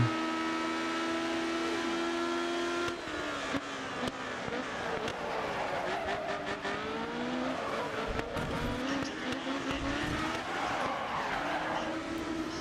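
Formula 1 race car in the video game GRID Autosport: a loud, continuous engine whine rises and falls in pitch through gear changes, with tire squeal breaking in as the car corners.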